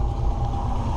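Steady low exhaust rumble from a Ford Bronco with a little 302 engine and dual Flowmaster mufflers, idling close by in a brief continuous stretch with no voices.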